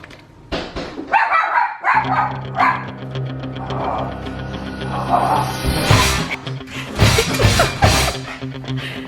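A small, protective dog barks in repeated sharp, close bursts across the whole stretch, with yips in between and some indoor background noise.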